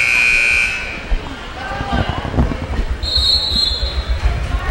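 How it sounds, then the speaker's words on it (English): A sustained electronic buzzer tone sounds at the start, followed by a noisy high school basketball arena crowd with bouncing and shuffling, and a second high tone later. "Turn down that buzzer"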